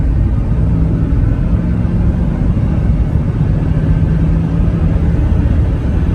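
Steady, loud low rumble of a car engine held in second gear, the donation vehicle bought at a Copart auction droning continuously and close without pauses or shifts.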